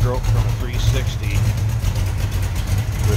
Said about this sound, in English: Listen to that. Very healthy sounding engine.